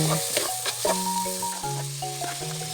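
Garlic and ginger frying in a pan for chicken kabsa, a close, steady sizzle with bright crackling and a few soft knocks of stirring throughout.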